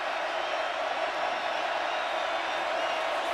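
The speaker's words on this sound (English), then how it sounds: "Crowd really getting into it now." A college football stadium crowd during a West Virginia Mountaineers versus Texas Longhorns game roars steadily throughout, a dense, sustained wash of cheering with no pause.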